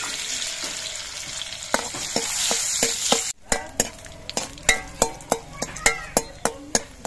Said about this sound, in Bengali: কাজুগুলো ভেজে নিচ্ছি